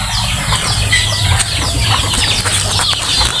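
Several native chickens cluck and squawk in busy overlapping bursts over a steady low hum, close by and fairly loud, with no talking, in a rural Philippine province.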